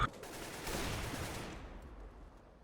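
Counter-Strike gunfire rattles on the Inferno map as a brief burst of rapid shots that fades into a decaying echo, moderately loud with no clear talking.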